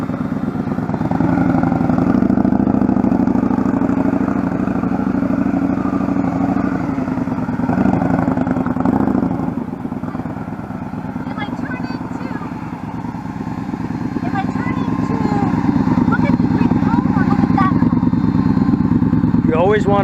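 A motorcycle engine drones steadily through slow low-speed training maneuvers, rising and dipping in loudness as the rider turns, with an instructor's voice calling out over it.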